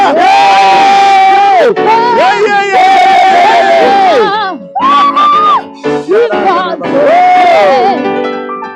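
A church congregation at a healing service in Kigamboni shouting and cheering loudly together, sustained whoops and cries in bursts with brief gaps, close and filling the room.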